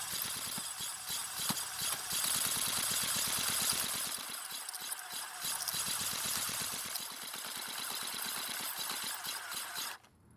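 The starter ratchet of a Craftsman 4-cycle string trimmer slips, giving a fast, steady rattling clatter under engine noise for about ten seconds before cutting off abruptly.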